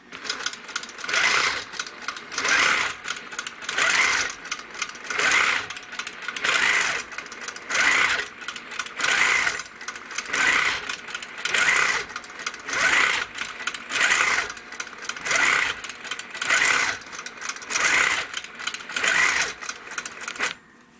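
Long-arm quilting sewing machine stitching through a quilt, a steady mechanical whir pulsing in regular bursts roughly every second and a half, close and continuous with no talking.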